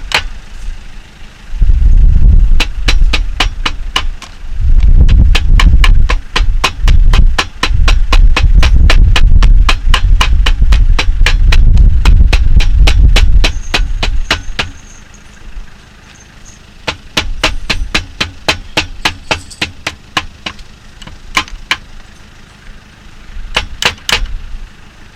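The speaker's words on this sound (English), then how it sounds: "about the simplest way to cut a gasket is with a hammer. Just carefully tap around the edge of the gear case" Rapid, sharp tapping of a hammer cutting gasket paper on a metal New Holland rake gear case repeats in steady bursts, close by, with a loud rumbling drone underneath for much of the time.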